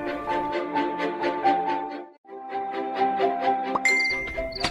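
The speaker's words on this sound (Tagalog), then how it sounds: "Ada text ko." Chiming ding tones from a phone text message notification, sounding in a short repeated pattern over a melodic music bed, with a brief pause midway and bright added tones near the end.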